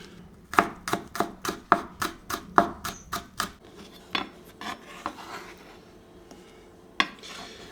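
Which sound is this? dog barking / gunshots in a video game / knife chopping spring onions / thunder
knife chopping spring onions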